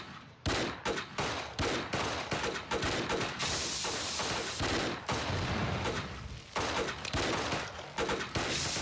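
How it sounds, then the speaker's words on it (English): Enemies fire guns in the video game Bounty Train, a sustained fusillade of rapid, overlapping shots in repeated bursts, loud and dense with short gaps between volleys. "These guys are shooting."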